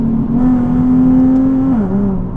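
A Nissan 370Z accelerates hard with a close, steady engine drone that rises slightly, then dips in pitch as the transmission shifts into third gear near the end.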